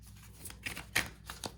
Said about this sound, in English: So let's shuffle and see what comes out.